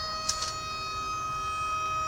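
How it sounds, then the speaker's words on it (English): Tornado warning sirens wail outdoors as a steady, sustained tone heard from a distance, with a brief louder burst near the start and constant background noise underneath. "Those are really the fucking sirens going off right now."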